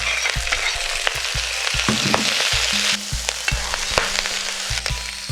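Wood ear mushrooms and garlic scapes stir-fried in hot oil, with a steady crackling sizzle and repeated scrape-and-toss strokes of a spatula against the wok, loud and close, no talking.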